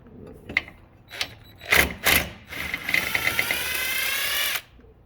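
A small bolt comes off the crank position sensor of a 2010 Chevy Malibu 3.6, with a few short ratcheting clicks followed by a longer continuous whir from a power driver that stops abruptly, close up and without talk.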